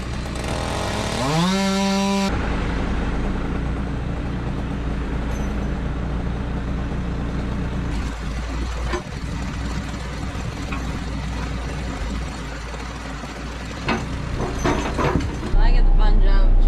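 Heavy tractor engine running steadily during oak tree removal, moving big cut pieces across a lawn in sub-zero cold; a loud continuous engine drone with some clanking, with a brief revving whine at the start.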